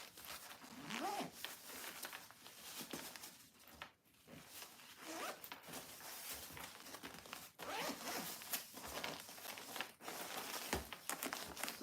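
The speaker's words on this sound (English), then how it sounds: "Close the zipper up." A zipper runs repeatedly along a fabric travel packing bag stuffed with t-shirts, with crisp, close rasping strokes in quick succession mixed with fabric rustling and crinkling, and a few brief pauses between pulls.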